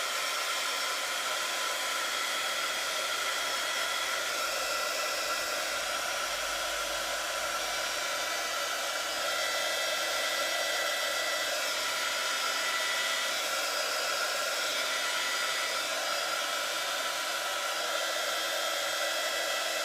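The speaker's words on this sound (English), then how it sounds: "Quick blast with a dryer so I don't smudge it." A hair dryer blows continuously to dry paint on a journal page, a steady close whooshing hiss that holds unchanged for about twenty seconds with no talk.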